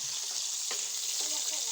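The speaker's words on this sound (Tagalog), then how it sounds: "Kaya nagpiprito na lang tayo ng binili nating isda." Store-bought fish frying in a pan, a dense steady sizzle with faint clinks and a soft voice underneath, heard close for a moment.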